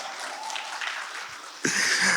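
An audience at a faith gathering breaks into applause late in the moment, after quiet room tone, and the clapping swells abruptly and continues.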